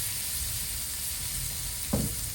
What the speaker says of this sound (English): adding oil, garlic, saute the garlic for